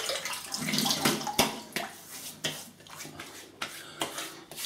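Running tap water splashing as a face is wetted before shaving, a steady close pour broken by repeated sharp splashes and drips.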